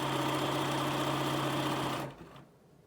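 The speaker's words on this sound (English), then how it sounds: "Fold it over 1/4 inch, another 1/4 of an inch. And just sew it through." A sewing machine runs steadily through a folded quarter-inch fabric hem, a loud close whirring buzz with a rapid needle rhythm that continues evenly for about two seconds and then stops abruptly, leaving near quiet.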